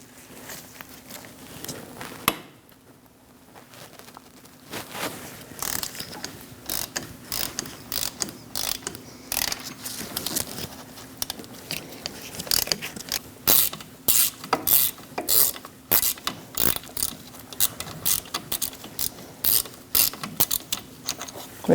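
A hand ratchet removes a bolt from a front wheel hub on a 2000-2006 Mini Cooper, with bursts of rapid, close clicking that grow more frequent and regular in the second half.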